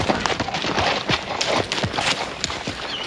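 Horse hooves clip-clopping steadily on dirt as a rider arrives, a close, loud run of evenly spaced thuds.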